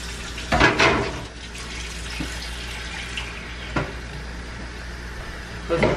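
Gravy poured over turkey wings in a pan gives soft, wet splashing and trickling pours, a few brief louder gushes over a low steady background hum, close by.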